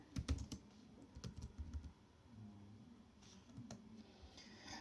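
Keys clatter on a computer keyboard in a quick burst of close taps, pause, then resume in sparser clicks, quiet and without talk.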